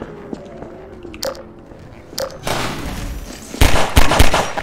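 Gunfire in Half-Life: Alyx as Alyx shoots out of a window, with a few sharp cracks early, then a louder, denser burst of shots near the end.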